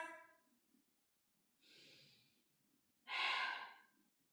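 Slow, deep breaths during a guided yoga exercise, a few long separate inhales and exhales, the last one loudest and closest, with no talk over them.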